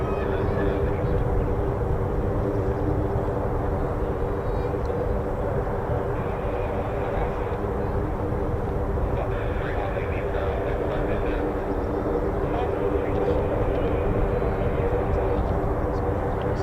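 A C-130 military transport aircraft from Ramstein Air Base near RAF Lakenheath drones loudly and steadily with a deep propeller rumble throughout, while a voice talks over it.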